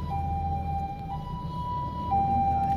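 An ambulance siren wails in a steady two-tone pattern, alternating high and low pitches over low road rumble.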